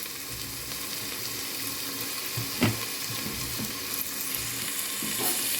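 Tomato frying in a pan, a constant bright sizzle close by, broken by a couple of brief knocks and scrapes as it is stirred, with no voices.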